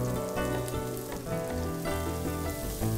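Spring onion, garlic, ginger and green chillies sizzle and crackle steadily in hot oil over a high gas flame, a continuous close frying hiss with no voices.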